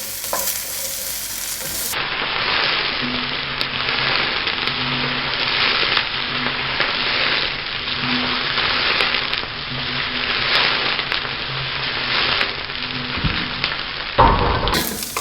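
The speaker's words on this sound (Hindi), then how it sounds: "1 मिनट के लिए इसको सौटे करेंगे।" Baby corn and broccoli sauté in a pan with browned garlic, giving a steady, close sizzle with the scrape of stirring running underneath throughout.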